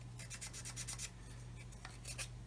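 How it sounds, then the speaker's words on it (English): A 1/35 Meng 9K37M1 Buk plastic model kit part being sanded flat: quick rhythmic rasping strokes in short bursts, close and fairly quiet over a steady low hum, with no talking. "that needs to be sanded down flat"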